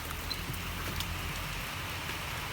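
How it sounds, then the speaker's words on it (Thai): Rain falling steadily around a house, a continuous close patter of drops on surfaces with an even, dense hiss and no voices. "ฝนตกซะก่อน"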